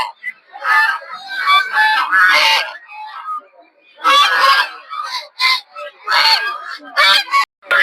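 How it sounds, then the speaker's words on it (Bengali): Crowds of local and raja ducks at a village poultry market in Putia, Narsingdi, give loud, harsh honking calls in dense bursts with short gaps, close and overlapping. "দেখতে পাচ্ছেন প্রচুর পরিমাণে হাঁস পাবেন এই হাটে, সব দেশি হাঁস, রাজা হাঁস।"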